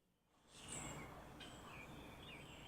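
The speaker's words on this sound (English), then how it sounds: "I just pointed out the window so you can hear the birds." Live birds singing just outside a studio window, several thin high chirps and whistled phrases rising from a steady outdoor hiss, moderately distant and fairly faint, with no talking.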